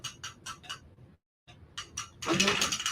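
A longarm quilting frame ratchets as the quilt is rolled onto it: bursts of quick, close mechanical clicks, a brief silent pause, then more clicking that ends in a louder rustling clatter.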